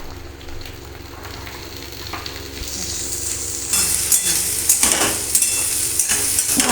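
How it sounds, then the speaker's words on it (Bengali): Vegetables frying in a pan with chilli and onion, a steady close sizzle that grows louder and brighter partway through as more vegetables go in, with scraping stirs and light clinks of a utensil against the pan. "একে একে সবজিগুলোকে আমি ভেজে নেব"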